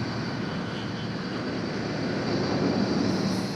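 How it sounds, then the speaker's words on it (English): A steady, broad roar from a swept-wing F-86 jet fighter in flight, continuous and fairly loud, with no pauses and no talk. "an F-86 with swept wings makes its maiden flight"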